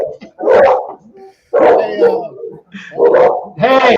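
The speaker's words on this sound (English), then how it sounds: "My dogs are going nuts." Pet dogs bark in loud, repeated bursts nearby, with short gaps between volleys and some yips mixed in.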